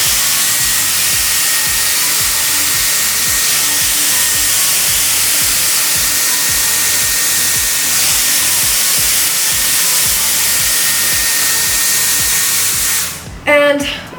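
A Dyson Airwrap hair styler blows steadily on its high fan setting, making a loud continuous whooshing whir that ends with a short burst of clicking and handling noise.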